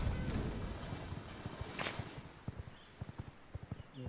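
Horse hooves clip-clopping in the video game V Rising, a steady run of fairly faint hoofbeats growing more distinct toward the end over a broad wash of background noise.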